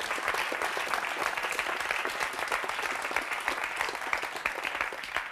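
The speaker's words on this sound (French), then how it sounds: "On applaudit très très fort ce monsieur." Studio audience applause on a French talk show, steady loud clapping from a crowd sustained throughout without letting up.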